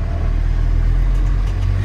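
Mercedes-Benz T1 310 van pulling away slowly in rainy weather, a steady low engine rumble and drone throughout, close and fairly loud with no talking.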